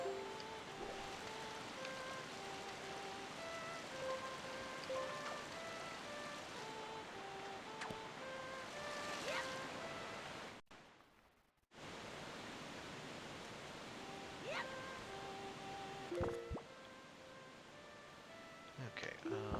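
Steady rushing water of a waterfall in The Legend of Zelda: The Wind Waker, a continuous broadband roar with faint game tones and voices talking over it, briefly cutting out midway before resuming.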